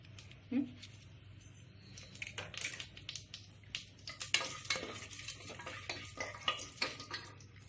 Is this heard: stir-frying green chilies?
yes